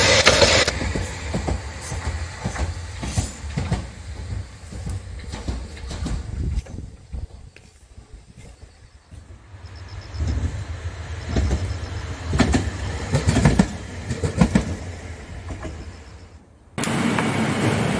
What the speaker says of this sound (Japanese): 踏切の上を JR が走ります南鹿児島駅行きの菜の花号です